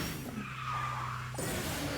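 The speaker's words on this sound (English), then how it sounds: "Start the drift" Kart tires skidding through a drift in the racing game Kartrider: Drift, a steady sustained screech with engine hum that cuts off abruptly near the end and gives way to a rougher engine-like tone.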